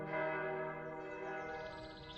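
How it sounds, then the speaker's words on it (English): Church bells ring steadily with rich sustained tones that overlap and hang in the air, moderately distant and alone without voices. "we fade up to the sound of church bells ringing"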